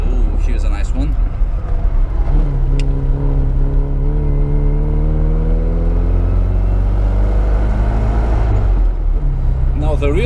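Classic Mini car driving through mountain corners, its engine droning steadily with rising and falling pitch as it pulls through bends, loud and close from inside the car, with no one speaking.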